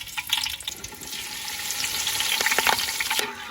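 Green chillies frying in hot oil for a crispy anchovy (nethili) fish fry, a loud close sizzle with crackling bursts and stirring, no talking.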